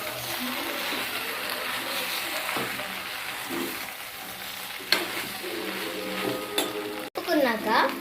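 Pasta tossed through a hot pan gives a steady sizzle with stirring scrapes and occasional clatter of utensil against metal, continuous and close, with a voice speaking over it.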